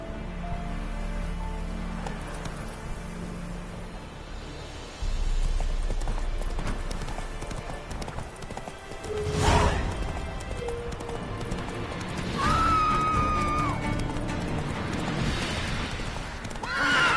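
Roach, Geralt's horse in The Witcher 3, gallops with steady clip-clop hoofbeats over rain and ambient game sound, and a loud whinny breaks through midway, then fainter neighs follow.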